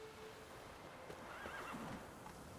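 Horse neighing and whinnying in The Witcher 3, a quiet, agitated cry rising and falling over soft hoof clatter and a steady in-game ambient bed, with no talk.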